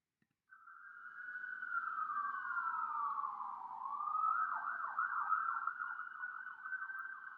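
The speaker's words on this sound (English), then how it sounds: "So the sound of police cars, of sirens, that's unescapable, that's unavoidable." A police car siren wails through a city street in New Orleans, one loud, close siren rising and falling in a long continuous sweep, with no other sound around it.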